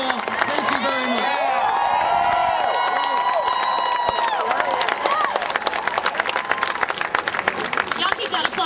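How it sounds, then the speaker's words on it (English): An outdoor protest rally crowd claps and cheers, a rough continuous roar of hands with shouting voices and whistles rising over it early, then settling into dense, loud clapping mixed with crowd noise. "Y'all keep that applause going for David Jones."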